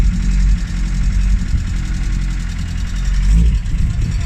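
A Vauxhall Corsa B with a C20XE red top engine idles close by, a rough low rumble with a faint tappy, ticking valvetrain clatter running steadily throughout.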